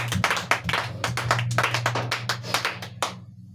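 A church congregation claps in a dense, uneven burst of hand claps, fairly close and loud, over a low sustained hum, then the clapping quickly dies away at the end.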